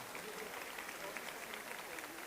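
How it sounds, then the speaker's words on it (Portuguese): A conference audience applauds a speaker coming onstage at a sustainability event, a faint, even patter of many hands clapping at a distance, steady throughout. "palmas para o Cauê, por favor."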